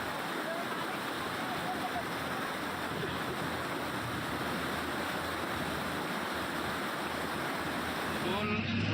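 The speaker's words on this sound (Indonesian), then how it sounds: "luapan air yang sekarang ini masih terus mengalir di aliran lahar itu" Floodwater overflowing along the Semeru lahar channel in Lumajang after a flash flood rushes in a steady, loud, unbroken roar throughout.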